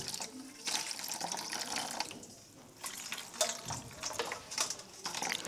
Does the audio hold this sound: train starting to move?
no